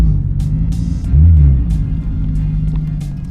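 An Audi RS3 engine gives a steady, deep, close rumble at idle, swelling briefly partway through, with faint higher noises over it.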